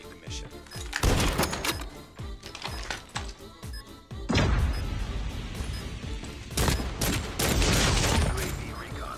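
Rapid bursts of gunfire from a special gun in a competitive shooter game, loud dense volleys and fast repeated shots with brief pauses, heavy impacts layered over game effects.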